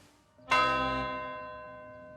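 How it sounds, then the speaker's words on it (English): A bell in the tabletop game Oops! All Necromancers is struck once by a dart, ringing out in one bright, clear strike that hums on and slowly fades, with no voices. "a single blue dart shoots out and rings the bell"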